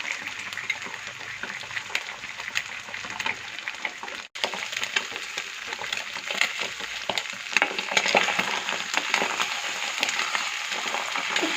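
An egg fries in a pan with homemade noodles, giving a steady close crackling sizzle throughout, with occasional stirring scrapes and a brief dip midway.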